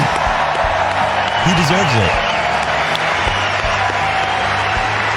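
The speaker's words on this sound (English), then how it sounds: "Let's give him a big round of applause to Roger, guys." Audience applause for Roger Federer at the Australian Open, a steady wash of clapping from a crowd that runs the whole time under someone talking over it.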